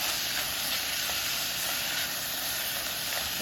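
Onions sauté in a pan for gravy, a steady loud sizzling hiss with faint crackles, close and unbroken, with no voices.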